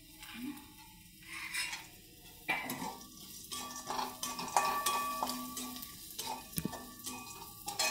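Dried lentil dumplings (sandge) dropped into a pan for a dry vegetable dish and stirred, giving scattered clinks and scrapes of a spoon against the metal pan with a faint sizzle, fairly quiet and without talk.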